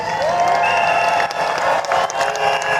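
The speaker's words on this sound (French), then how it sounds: "Applaudissons très fort pour son Excellence Monsieur le Vice-Premier ministre." Loud, sustained applause and cheering from a crowd at a formal ceremony honouring a Vice Prime Minister, continuous clapping filling the whole stretch with whoops rising above it.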